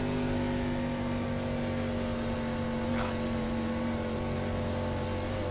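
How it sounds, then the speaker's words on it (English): Gen 4 NASCAR race car engines drone in a steady, loud, continuous roar with sustained tonal whine, heard on board in a race with no pitch changes and no talking. "We get to hear these Gen 4 NASCAR engines one more time this season."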